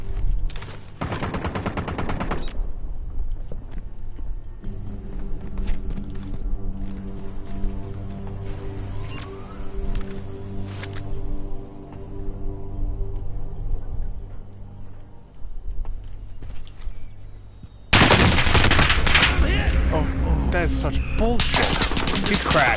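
Automatic gunfire in Call of Duty: Warzone rips out in loud bursts at the start and again near the end. Quieter game noise and players talking fill the middle.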